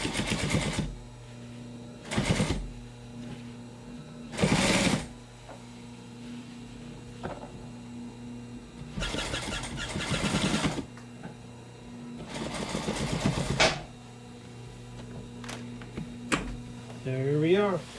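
A sewing machine re-stitches weak seams on Sunbrella fabric, running in several loud, whirring bursts of a few seconds each, separated by pauses with a low steady hum and occasional quiet talk.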